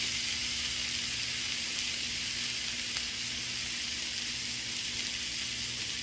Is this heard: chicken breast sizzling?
yes